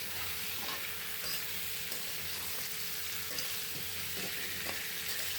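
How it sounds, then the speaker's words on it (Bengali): Cut radish with spices sizzles and fries in a pan while being stirred, a steady soft hiss with faint scraping strokes throughout and no voices. "তারপর মশলার সাথে মূলা খুব ভালো করে মিক্স করে নিচ্ছি।"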